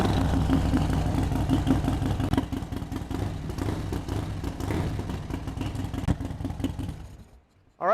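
A Harley-Davidson Softail Slim motorcycle fitted with a Feuling 574 cam kit runs loud and close, its engine idling with a steady loping throb and mechanical clatter, then cuts off near the end.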